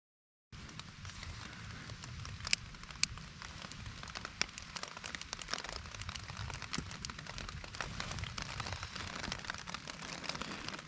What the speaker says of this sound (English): I did not beat the rain. It is already sprinkling outside.